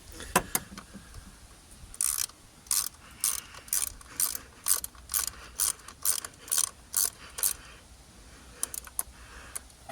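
A ratchet socket wrench snugs down a bolt on a Jaguar 4.0 V8 during valve lifter and shim reassembly, with a few early clicks and then a steady run of close, evenly spaced ratcheting bursts.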